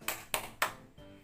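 Three crisp, evenly spaced hand claps ring out at a quiet level during a class clapping song in an online Indonesian junior high social studies lesson, then stop.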